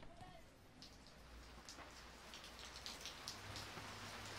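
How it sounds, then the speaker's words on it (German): Steady rain patters down in a German-dubbed animated cartoon about pandas playing football, a dense even hiss of drops with scattered brighter splashes, moderately loud throughout with no talk. "anfängt zu regnen"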